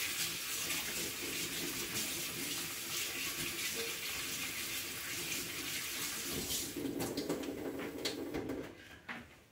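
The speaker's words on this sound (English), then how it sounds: "I'm gonna wash them and cut them up" Running tap water pours steadily and loudly while pineapple, banana and apple are rinsed beneath it, the flow continuing almost unbroken before easing off at the very end.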